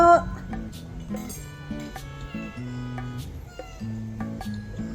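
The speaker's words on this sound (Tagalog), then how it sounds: "si catcher namin, yung pusa namin. Gusto din niyang kumain." A cat meows repeatedly, several drawn-out cries in quick succession, fairly close and clear, with little else in the background.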